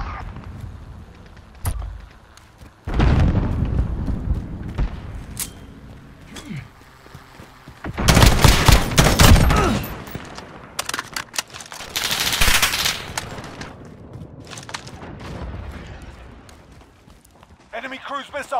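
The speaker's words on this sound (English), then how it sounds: "Dude's got a heavy machine gun." Heavy machine gun fire in a Modern Warfare Domination match, loud rattling bursts of rapid shots coming in clusters between footsteps and game sounds, with voices talking throughout.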